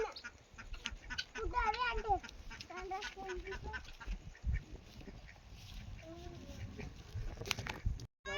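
Free-range village hens clucking in a farm shed, with ducks nearby and people talking over the bird calls; repeated close clucks and squawks come in bursts between the voices.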